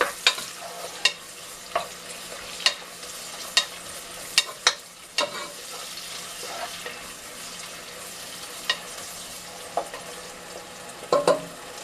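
Tomatoes and onion fry in a pot for Ghanaian jollof rice, a low steady sizzle punctuated by irregular sharp knocks and scrapes of a stirring spoon against the pot, close up and without talk.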